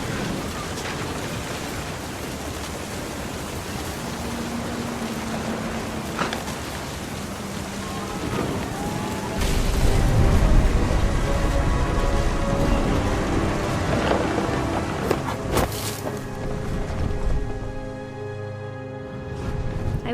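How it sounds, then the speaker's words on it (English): Steady heavy rain with rolling thunder in the game What Remains of Edith Finch, a continuous hiss of rainfall with a deep rumble swelling in the middle, plus faint tonal background hum. "The thunder sounded much too close and full of angry power."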